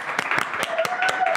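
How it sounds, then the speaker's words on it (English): Studio audience applause on a dating show, a burst of close clapping with distinct sharp hand claps, mixed with voices talking. "Whoa, this is a massive round of applause."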